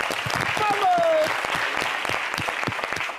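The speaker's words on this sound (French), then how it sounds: "on applaudit" A crowd breaks into applause at an award-style show, thick clapping filling the whole stretch, with a brief voice and a whoop rising above it early on.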